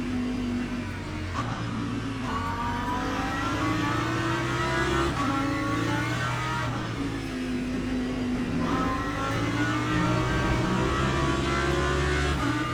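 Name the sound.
race car engines at Spa, Le Mans Ultimate video game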